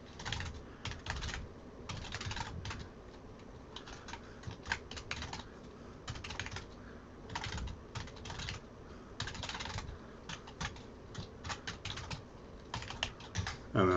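Quick bursts of keystrokes on a computer keyboard as a first name and email address are entered, soft close clicking in uneven clusters with short pauses between them, no voices.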